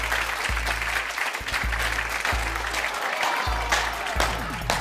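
A television talk show studio audience gives a steady burst of applause and cheering as a guest is welcomed, the dense clapping continuous throughout.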